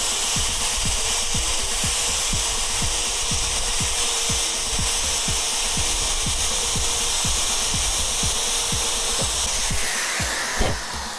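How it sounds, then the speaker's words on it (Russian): Rapid rhythmic rasping of a tool enlarging a hole in a Renault Trafic 2016 headlight housing for BI-LED lens installation, steady close strokes continuing for the whole stretch with a brief louder scrape near the end. "Немножко разрабатываю отверстие."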